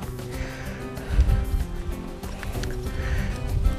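A horse during a riding lesson whinnies and snorts while hooves thud steadily, with arena rumble and some faint movement noise throughout.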